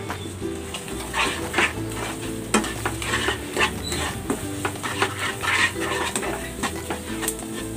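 Ground toasted rice gets stirred into kare-kare in a pan, with repeated scraping and knocking of a utensil against the metal over a low sizzle, in an uneven rhythm of close strokes.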